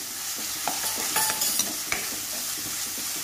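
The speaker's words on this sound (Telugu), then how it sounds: "ఇవన్నీ వేగడంలో ఉల్లిపాయలు ఇంకా బాగా మంచి రంగుకి వచ్చేస్తాయి" Onions and spices fry in a pan for a fish curry, a steady sizzle with a few light stirring clicks and scrapes throughout, close and unaccompanied by talk.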